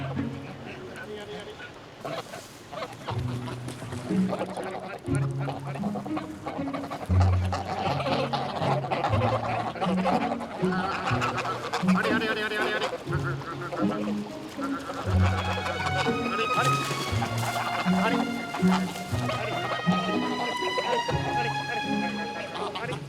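Geese honk and call repeatedly beside turquoise gravel-pit water, nasal cries in irregular bursts, mixed with a narrating voice and quieter background sounds.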